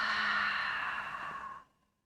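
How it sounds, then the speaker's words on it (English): A single slow exhale through the mouth during a relaxing yoga session, a soft breathy whoosh held steadily for over a second and then fading into silence. "So take a deep breath in. Exhale out through the mouth."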